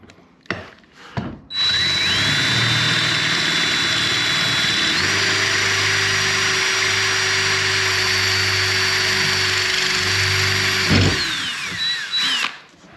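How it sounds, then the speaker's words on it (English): A power drill bores a larger hole through an old dishwasher hinge pin, running loud and close in one long, steady whine that winds down at the end. "let's drill out a little bigger hole now."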